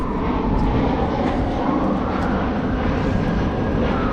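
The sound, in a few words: airplane flying overhead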